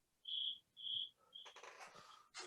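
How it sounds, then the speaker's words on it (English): Cricket chirps used as a comedic sound effect: two clear sustained chirps and a shorter third, then a brief burst of clattery noise, with no talk. "Crickets."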